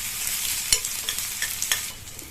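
Whole dried red chillies and aromatics sizzle in oil in a pan for a greens dish, with a soft steady crackle and a few light scrapes and stirs close by. No one talks.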